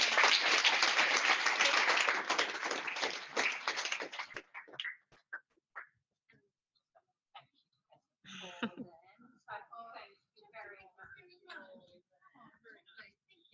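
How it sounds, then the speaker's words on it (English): Audience at a physiotherapy program overview breaking into a loud round of applause that lasts about four seconds and then cuts off, followed by scattered talking and murmuring in the room. "We would lovely to do a big round of applause."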